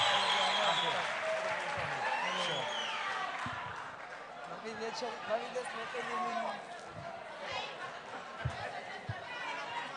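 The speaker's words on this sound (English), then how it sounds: "A round of applause for All Day Jam" Audience at an agri-entrepreneurship township summit applauds briefly, the clapping fading after a couple of seconds into chatter, laughter and a voice talking near the microphone.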